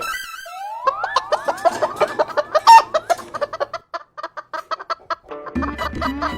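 Cartoon chickens at a fish and poultry market cluck and squawk in a rapid burst of loud calls, with swooping whistle-like effects at the start and a lower commotion at the end.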